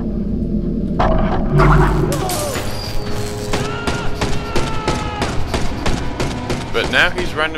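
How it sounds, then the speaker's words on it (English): Rapid in-game gunfire from the stealth game Mark of the Ninja, sharp repeated shots and crashing impacts in bursts over several seconds, loud and close, with a voice talking partway through. "now he's randomly shooting at people and things"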